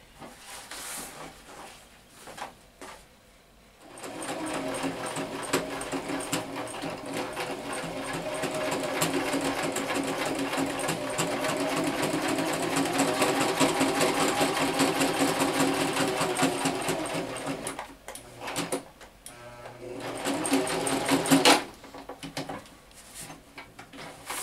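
A sewing machine stitches an oilskin haversack in a long, fast, continuous whirring run, then stops and restarts in a few short bursts near the end.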